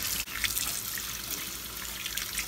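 Water from a kitchen tap runs and trickles into a container to soak ingredients for arroz caldo, a steady close splashing flow with small drips and no talk.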